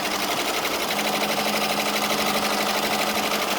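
An embroidery machine runs a placement stitch on a T-shirt held in a hoop, producing a loud, fast, steady needle rattle that continues unbroken throughout.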